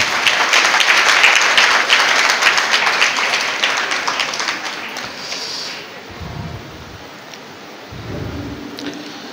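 A church congregation claps hands together in a loud, dense burst that gradually thins and fades, leaving a quieter room with a couple of soft low thumps near the end.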